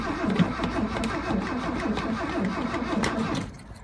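A 1979 Ford F150 engine cranks repeatedly without catching, its starter chugging in a steady rhythmic churn that stops near the end. The sound is loud and close, with no speech.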